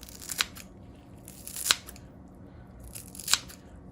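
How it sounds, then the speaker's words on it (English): Three crisp snips of kitchen shears cutting through coriander, spaced about a second apart, close up in a quiet room. "I'm using kitchen shears"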